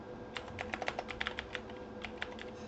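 Quiet clicks of a computer keyboard as a file name is typed, a short burst of irregular keystrokes with a brief pause, faint and close over a low hum.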